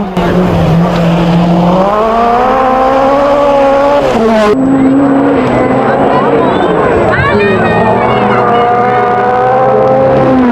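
A loud mid-engine turbocharged four-wheel-drive Group B rally car engine revs and roars, climbing in pitch, dropping as it shifts, then climbing again, with faint crowd noise underneath.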